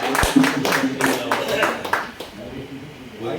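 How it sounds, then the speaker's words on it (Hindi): An audience at an Urdu mushaira poetry gathering in Meerut claps to welcome poet Ashok Sahib, a brisk burst of many hands that fades out after about two seconds, with a voice over it. "एक जोरदार तालियों से उनका खैर मकदम करें हमारे मेहमान शोहरा"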